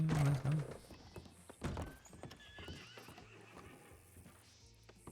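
A horse whinnies loudly at the start, followed by hooves clip-clopping and thumping at close range, with faint background sounds trailing off.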